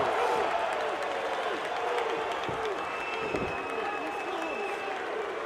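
Wrestling crowd at an APW show at the Cow Palace roars steadily throughout, a dense sustained wall of cheering and clapping with commentary heard beneath it.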